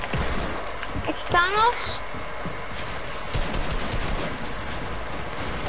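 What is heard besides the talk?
pump shotgun gunfire in a video game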